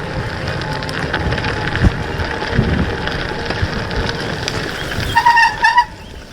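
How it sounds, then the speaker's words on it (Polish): Steady wind roars and buffets against the microphone throughout while cycling into a headwind, a constant rushing noise, with a few brief squeaky chirps near the end. "Teraz jadę pod wiatr"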